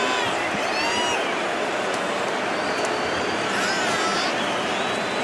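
Arena crowd in the WWE 2K25 wrestling video game, a dense, steady roar of cheering and noise that fills the whole stretch, loud and continuous, with faint whistles rising above it.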